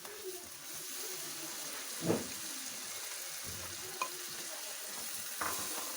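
Masala of onion and spices frying in a pan for an Afghani eggplant dish, a soft continuous sizzle with a few scraping strokes of a stirring spoon and light clinks, heard alone without speech.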